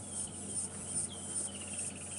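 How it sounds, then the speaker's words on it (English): A steady, high cicada drone fills the background of an evening safari drive at Djuma and Arathusa, buzzing on and off in a faint, sustained chorus with no voices. "The cicadas are making a real racket just before we came around this corner."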